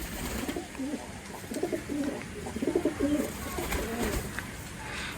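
Pigeons in a loft coo in repeated soft, throaty phrases at close range, several calls overlapping in a steady rhythm over faint background noise, with no speech.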